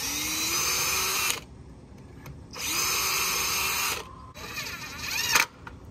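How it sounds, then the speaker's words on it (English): A power drill pre-drilling holes for a kick panel on a chicken coop door whirs in three separate bursts, each spinning up to a high steady whine and then cutting off, with short quiet gaps between. "before I pre-drill these holes."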